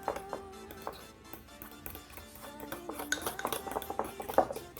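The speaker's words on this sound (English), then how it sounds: "So now mix it." A spoon mixing banana mug muffin batter in a mug, quick clinks and scrapes of metal against ceramic in an irregular rhythm, close and clear with no talking.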